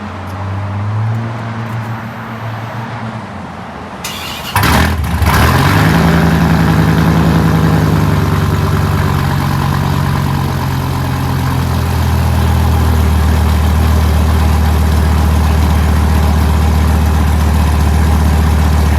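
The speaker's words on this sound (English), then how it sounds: "let's get that cold start" A Viper truck engine cold-starts after a quiet pause, catching with a loud burst, then settling into a steady, rumbling idle that stays loud and close, noticeably louder than expected.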